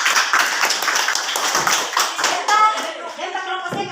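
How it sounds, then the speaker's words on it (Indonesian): Students in a classroom give a round of applause for group 1: quick, scattered hand claps from several people, fairly close, fading after a few seconds as voices begin talking. "kasih aplaus kelompok 1"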